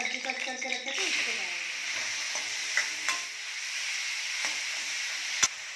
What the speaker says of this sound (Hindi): अब इसमें डाल देंगे हम जो एप्पल सब्जी कट करके रखे थे